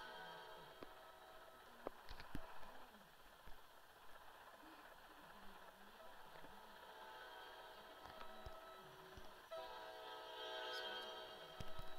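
A train in the Roblox game Trains Vs Cars 2 rumbles steadily with engine drone and faint horn-like tones, fairly quiet and continuous, with brief clicks and game sounds over it.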